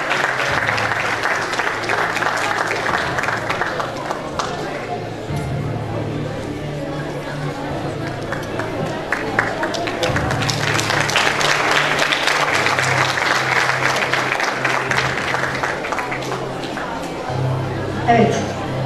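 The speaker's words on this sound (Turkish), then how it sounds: "Kendilerini tebrik ediyoruz alkışlarımızla." Audience applause at a school award ceremony, a sustained wave of many hands clapping that swells and continues for a long stretch, with faint crowd murmur underneath.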